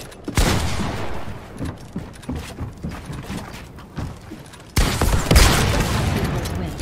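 Rapid bursts of gunfire from a Fortnite match crack repeatedly at close range: a loud opening shot, an uneven run of shots, then a heavy sustained barrage near the end.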